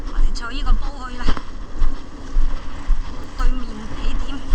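A boat engine drones on the crossing from Te Anau Downs to Glade Wharf for the Milford Track in New Zealand. The steady low rumble and wind noise sit under loud, close conversation.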